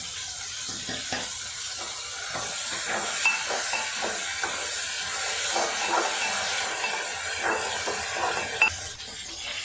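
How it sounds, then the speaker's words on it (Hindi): Tomato puree hits a hot pan of bitter gourd and onion masala for a Sindhi-style karela dish, giving a steady loud hiss and sizzle that runs the whole time, with small crackles and pops throughout and no talking. "अभी इसमें हम टमाटर की प्यूरी डालेंगे।"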